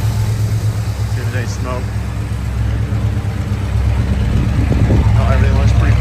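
A 1971 Plymouth Roadrunner's engine idles steadily just after starting, a loud, close rumble that swells slightly toward the end while a person speaks over it.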